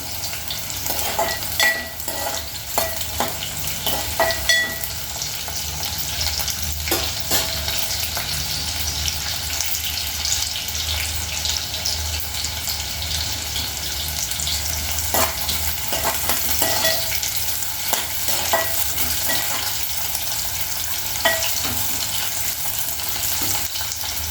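Okra (bendakaya) frying in a pan, an even, continuous sizzle and crackle with scattered clinks and scrapes of stirring, close and moderately loud, no talking.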